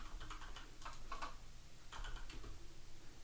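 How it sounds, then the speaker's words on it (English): A volume knob on a computer keyboard is twisted, giving quick bursts of small ticking clicks in irregular clusters, close and fairly quiet over a low room hum. "I have like a little thing on my keyboard that you can twist and it changes the volume."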